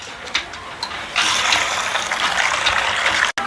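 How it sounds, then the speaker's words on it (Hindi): Running water splashes and gushes steadily as fragrant rice is washed in a home kitchen, with a few small clinks early on before the flow grows louder and continuous, then a brief cut near the end. "मैं चावलों को अच्छे से धो रही हूँ क्योंकि खुशबू वाले चावल हैं"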